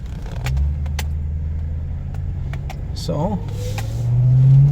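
A 2008 Ford Crown Victoria Police Interceptor hums along on a road test, its low engine drone steady inside the cabin with light clicks, a brief voice, and a rise in engine pitch at the end.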